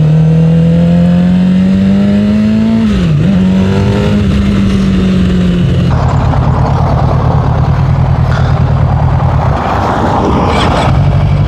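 A Suzuki GSX-R motorcycle engine idles and revs loud and close, the pitch rising and dipping, then the engine stalls and its steady tone gives way to rough, broadband noise.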